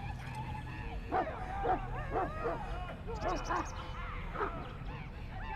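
A Mabari war dog in Dragon Age: Origins lets out a series of short yips and whimpering barks, about half a dozen in uneven rhythm, over a low game background.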